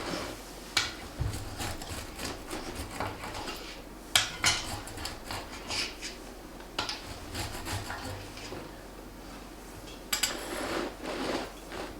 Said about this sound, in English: I'll cut it.